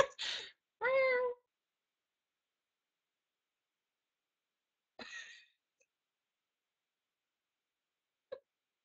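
Two quick cat meows close together, then silence broken by a shorter, fainter meow and a tiny click later on.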